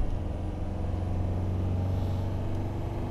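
A Land Rover Defender D90 engine climbs a steep hill in third gear on light throttle, giving a steady low rumbling drone heard from inside the cab with no voices.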